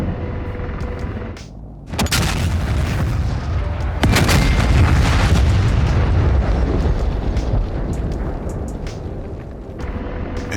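Sustained barrage of gunfire and booming explosions from an AI gunner's weapons in an Apache attack helicopter video game, loud and dense, continuous rumbling blasts with sharp cracks throughout.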